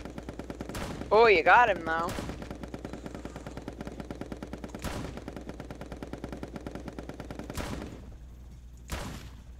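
Gunshots in the party video game Pummel Party: five or six sharp, loud cracks spread across the stretch, two close together at the start and the rest spaced seconds apart, over steady game music, with excited voices talking early on.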